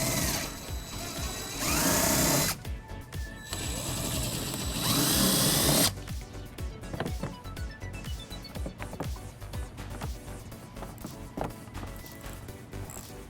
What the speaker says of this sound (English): we're going to remove using an 8mm socket